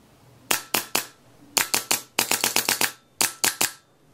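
A Bob Long G6R paintball marker fires a series of sharp, close pops in quick irregular bursts, some spaced and some rapid, with no talking.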